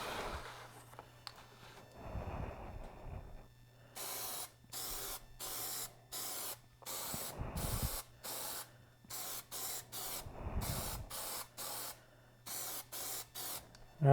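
Plasti Dip aerosol coating sprayed onto an ATEM Mini Pro, a long series of short, sharp hissing bursts at close range with brief pauses and handling rustles between them, over a faint background hum.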